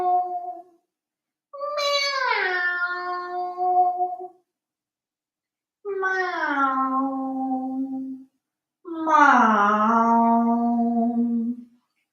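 A person's voice imitates a cat with three long, drawn-out meows falling in pitch, separated by short silences, after a brief opening sound.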